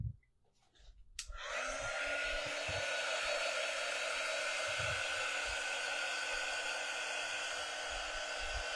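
A hair dryer switches on after a brief click and then blows continuously at a loud, steady whine while drying a Halloween witch-legs craft, with a few soft knocks underneath.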